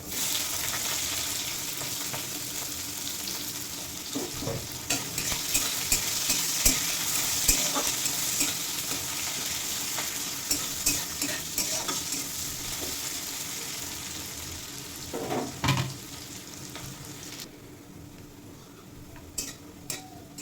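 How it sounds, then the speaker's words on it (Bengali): Continuous sizzling of garlic and onion pieces frying in a pan with dried chilli and radhuni, with occasional scraping and clinks as the pieces are stirred; no voices. "রাঁধুনি জিরে দিয়ে দেবো রসুন আর পেঁয়াজের টুকরো"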